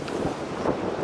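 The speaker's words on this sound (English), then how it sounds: "super windy over here." Steady, heavy wind in New York City buffets a Sony ZV-1 Mark II camera microphone fitted with a gray wind muffler, a continuous low rumble and roar, loud and unbroken throughout.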